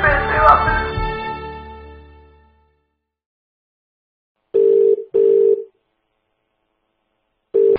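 A sound dies away, then a phone line gives repeated electronic beeps in short even pulses with silence between after a call is hung up, loud and clear.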